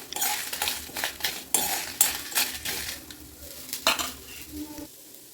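Coriander, chili, fennel and cumin roast together in oil in a pan, with a spoon scraping and clinking against the metal in repeated stirring strokes over a soft sizzle, close and fairly loud.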